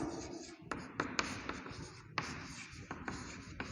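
A pen draws the diagonals of a quadrilateral on paper or a board, giving faint scratchy strokes with several sharp taps between them, close and quiet.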